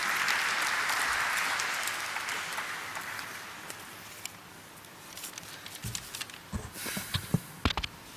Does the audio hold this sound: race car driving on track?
no